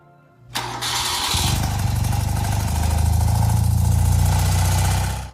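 A BMW motorcycle engine fires up with its electric starter, catching quickly and settling into a loud, steady idle close by, with no talk over it.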